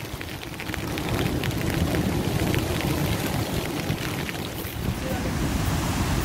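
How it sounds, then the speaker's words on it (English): Strong head-on wind and horizontal driving rain batter Chesil Beach on the Dorset coast at night, a dense, loud roar of gusts and hissing rain with surf underneath, continuous and close to the microphone. "Head on wind, horizontal rain."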